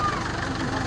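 Diesel engine of a 2007–2010 Mercedes-Benz OF-1722 M Euro III bus running, a steady rumble with a sustained drone over one second.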